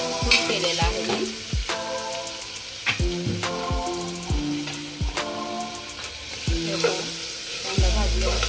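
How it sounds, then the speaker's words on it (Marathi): Onions frying over high gas flame for a dhaba-style chana masala, a steady loud sizzle broken by repeated scraping strokes of a spoon stirring in the pan, with no voices. "कांदा भाजून घेऊया, आपण हलवून घेऊया त्याला।"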